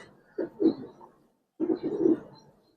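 A pair of Giribaz pigeons gives two separate cooing phrases, each a low throaty burst of rolling coos, close by with a short pause of silence between them.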